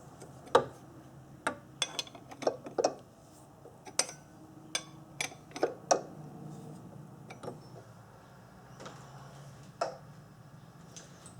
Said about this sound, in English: so now I will tighten up this bolt